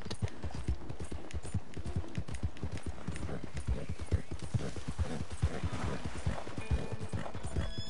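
Horse hooves clip-clop at a steady, even trot in the video game Red Dead Redemption Online, the repeated footfalls close and clear, with a few faint tones in the background and no talking.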